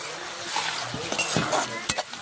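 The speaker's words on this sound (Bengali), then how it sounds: "এবার আমি জল দিয়ে দিচ্ছি।" Water poured into a pan of fried onion, tomato and ground spice masala for an egg bhuna sets off a steady close sizzle, with stirring scrapes and a few sharp utensil clinks.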